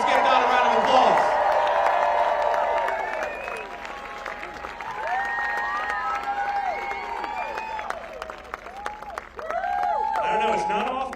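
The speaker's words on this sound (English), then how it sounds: "Let's give Don a round of applause" Crowd at a campaign rally in Selma, North Carolina, applauding and cheering loudly at first, the applause then thinning under a speaker's amplified voice.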